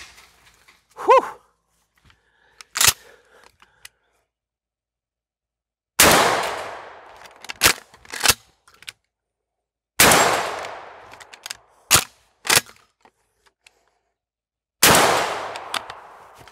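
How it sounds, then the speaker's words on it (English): A Mossberg 500 pump-action 12-gauge shotgun fires several loud, sharp blasts, spaced a few seconds apart, each followed by quick metallic clacks of the pump action cycling, with silence between. "running 500 rounds to a pump action 12 gauge"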